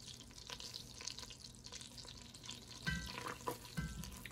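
Butter melts over low heat in a soup pot, making a soft, faint crackle and bubbling with a few small pops and taps near the end.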